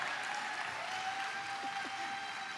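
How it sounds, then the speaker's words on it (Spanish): An audience at a church women's conference claps in steady, dense applause that continues evenly throughout, fairly distant and moderately quiet. "¿Por qué no le das un fuerte aplauso a Dios por la vida de la pastora?"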